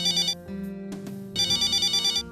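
A telephone rings in a home in an Indian sitcom, two bursts of a bright electronic ringtone separated by a short gap, loud and close, with no talk over it.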